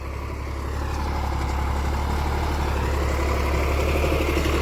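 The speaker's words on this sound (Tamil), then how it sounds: "இப்போது இந்த வாக்கு உழவு நடந்துகிட்ருக்கு" Tractor engine running steadily during the second pass of ploughing in an agricultural field, a loud continuous low rumble with constant drone and no pauses.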